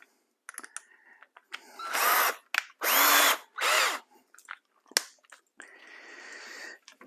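A power drill bores holes for threaded inserts in a router lift, sounding in several short whining bursts with clicks and pauses between them, close and alone.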